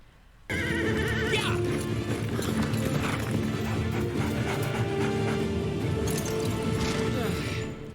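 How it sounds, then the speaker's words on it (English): Horse hooves clip-clop steadily in an animated fantasy series, The Dragon Prince, joined by a whinny. The hoofbeats run loud and continuous through the whole stretch after a brief quiet start. "Soren is riding the same horse he was in episode 1."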